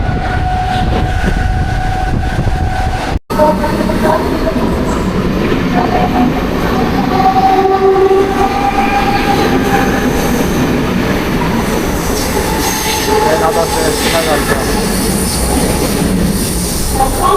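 A suburban local train on the urban line to Panvel runs steadily, its wheels rumbling and squealing on the rails for the whole stretch after a brief cut near the start, with the faint hum of a carriage around it and no talk.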